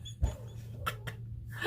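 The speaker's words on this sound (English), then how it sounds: "just ignore the dogs barking because they're not going to be quiet" Several dogs bark in a home setting, a few sharp, scattered yaps and a fuller bark near the start, mid-distance, over a steady low hum of background noise.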